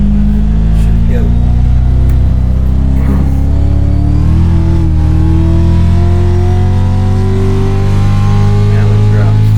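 Race car engine in the iRacing sim at Phoenix, a loud continuous drone with steady harmonics that rise and shift as the car accelerates, filling the whole stretch under faint background chatter.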